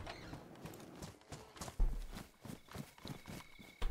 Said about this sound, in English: Yeah, it is a cow.